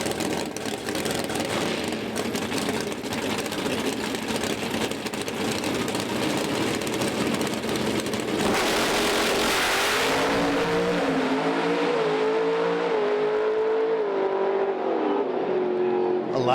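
Pro Stock drag race cars at a drag strip: loud, steady engine roar that swells into a sharp rising rev as they launch and pull away, with faint voices under the noise.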